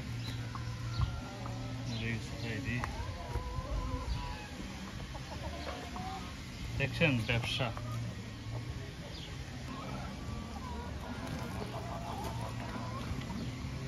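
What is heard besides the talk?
red chickens clucking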